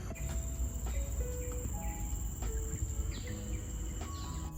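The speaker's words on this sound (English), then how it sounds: "There are so many insect noises, and the insects are so loud" Loud, dense insect chorus on a deserted nature trail, a steady high buzz and trill filling the air, with scattered bird chirps and calls breaking through.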